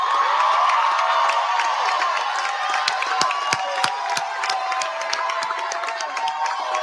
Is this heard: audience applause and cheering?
yes